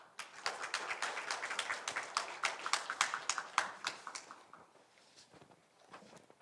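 Sparse clapping from a small audience at a policy forum in Yeosu, with distinct individual claps thinning out and fading after a few seconds.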